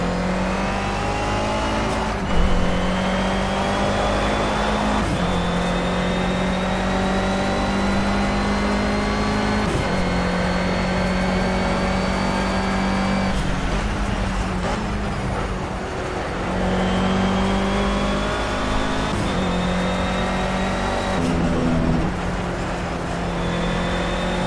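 A race car engine at full throttle in the Project Cars racing game, roaring loud and sustained with repeated rising pitch sweeps as it climbs through the gears and shifts, running alone for the whole stretch.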